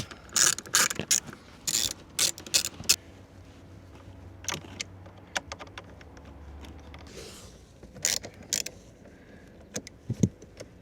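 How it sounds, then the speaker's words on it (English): Torx screws come out of interior trim on an Alfa Romeo Stelvio during a cabin air filter replacement, heard as bursts of close ratcheting clicks separated by quiet pauses, with no talking. "Now you're going to want to start taking out your Torx."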